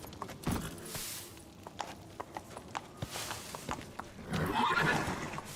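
A horse named in The Witcher 3 whinnies at the start and again near the end, with a run of evenly spaced hoof clip-clops on firm ground in between, all close and clear.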